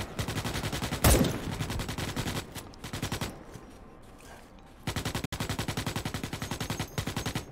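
Rapid automatic gunfire in the Starship Troopers: Extermination video game, sustained bursts of loud close shots with a brief lull in the middle before firing resumes, one sharp heavier blast near the start.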